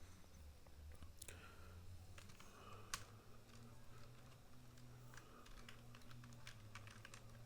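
HTML code being typed on a computer keyboard: soft, faint keystrokes tapping irregularly at close range over a low background hum, with no talking.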